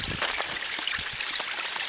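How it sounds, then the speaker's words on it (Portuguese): A small stream of crystal-clear water flows through mountain country on Dønna, a steady broadband rush with light trickling and splashing detail, close and continuous, with no speech. "Isso é um córrego."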